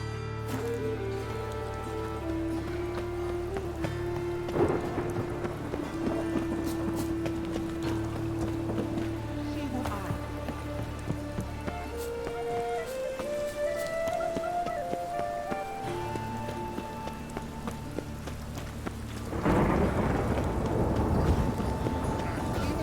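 Rain in The Witcher video game, a steady patter layered under game music with sustained tones and shifting melodic lines, ending in a louder burst near the close.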